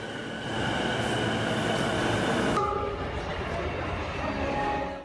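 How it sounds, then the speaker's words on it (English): A train rumbles at a station platform in Tokyo, Japan, a steady loud drone of rail noise and machinery with faint voices mixed in. "The train stops only briefly"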